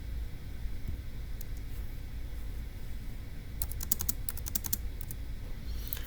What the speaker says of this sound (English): So let's go ahead and type that up of 351